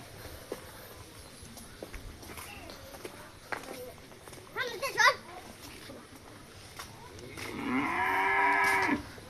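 A cow on a farm gives a couple of moos near the middle, then a longer, louder low moo toward the end, with footsteps and other farm sounds around it.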